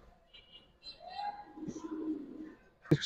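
Giribaz high flyer pigeons give a few quiet, low throaty coos close by. A short knock or clatter follows at the end.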